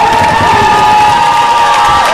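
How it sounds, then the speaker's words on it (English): A crowd at a men's volleyball match cheers and shouts loudly and continuously, with a dense roar of voices and high whoops filling the whole moment. "This crowd is just relentless. They just keep going."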